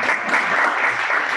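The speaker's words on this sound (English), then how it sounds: "If you heard the clapping" An audience clapping, a dense, steady round of applause throughout, fairly loud and close, with no clear talk.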